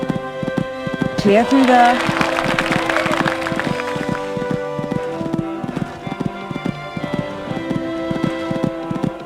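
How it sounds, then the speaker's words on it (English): Horse hooves drum in a steady, rhythmic beat on an equestrian jumping course, under an announcer's commentary and a crowd's murmur. "My goodness, this horse really has a lovely way of jumping"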